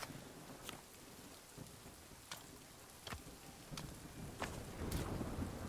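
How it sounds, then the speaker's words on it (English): Steady rain falls across a video-game farm with scattered sharp drop ticks over a continuous soft hiss, fairly quiet and even throughout. "At least it's raining."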